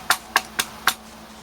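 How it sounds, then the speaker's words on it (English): Hands clap four times in a slow, slightly uneven rhythm, sharp and close, with a faint steady hum behind. "Because, you know, clapping sounds like this."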